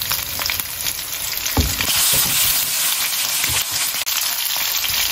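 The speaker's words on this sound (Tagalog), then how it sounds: "naglagay ako ng mantika at pagkainit ng mantika, nagisa ako ng sibuyas at kamatis." Onion and tomato sautéing in hot oil in a pan for sinigang, a steady close sizzle throughout with a few brief clatters of stirring and no voices.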